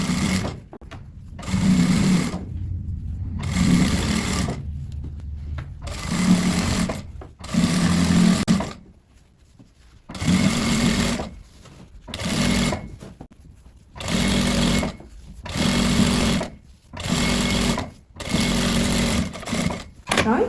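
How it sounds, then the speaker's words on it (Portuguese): Sewing machine stitching a second reinforcing seam along the waistband of fleece sweatpants, running in repeated short bursts of a few seconds each with brief pauses between, close and steady. "a gente vem aqui e só repassa uma costura"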